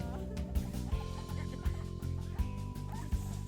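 About thirty chickens raised on a farm cluck in short, repeated bursts over a steady background hum, fairly close and moderately loud.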